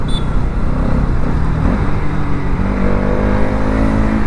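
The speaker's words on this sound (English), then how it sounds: "Lovely exhaust note." A Bajaj NS200 motorcycle engine hums steadily, its exhaust note rising into a smooth rev partway through, smoothing out above about 4000 RPM, close and continuous without any talking.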